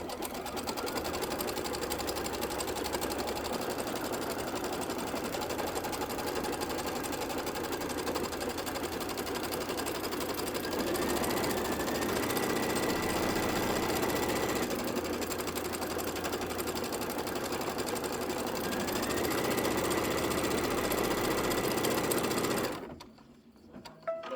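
An embroidery sewing machine stitches out a placement template for a double pinwheel quilt block, whirring steadily and loudly for over twenty seconds with small shifts in pitch, then stopping abruptly near the end.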